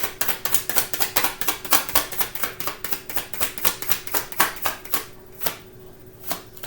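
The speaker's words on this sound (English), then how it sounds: "I'm going to split these and then I'm going to shuffle, or rather pull." Tarot cards shuffled by hand in a steady run of crisp riffling slaps, close and fairly loud, tapering into a few separate flicks at the end with no talk.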